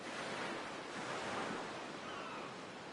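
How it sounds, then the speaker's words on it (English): Ocean surf washing onto the beach of Besaid Island in the video game Final Fantasy X, a continuous soft hiss of waves with some wind, steady and fairly quiet with no voices. "Listen to those waves."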